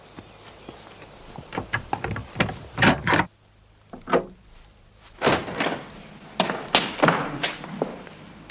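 An old wooden door is unlocked and opened with a series of close, heavy clunks, thuds and scrapes, in irregular bursts separated by short pauses.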